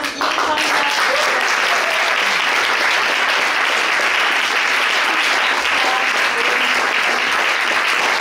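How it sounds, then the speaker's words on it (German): A crowd applauds steadily after a panel discussion, following a film screening. The clapping is dense and sustained for about eight seconds, close and loud, with no voices over it. "Großen Applaus jetzt an Katerina, Sarah, Tobias und Jay"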